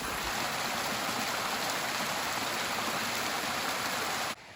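Stream water near Pollensa, Mallorca, rushes in a steady, close, broadband wash on a hiking trail, continuous for several seconds before cutting off abruptly near the end.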